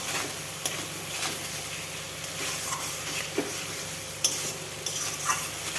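Spices fry in oil for a rohu fish curry, giving a steady close sizzle under the occasional scrape and knock of a spoon being stirred through the pan.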